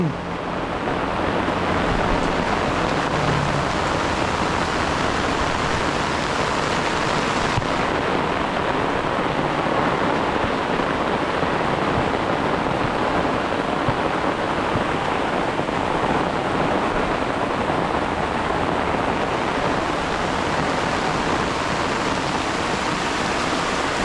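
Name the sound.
rain falling in a garden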